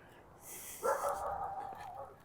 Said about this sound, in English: I think that's the same dog that was barking at me earlier.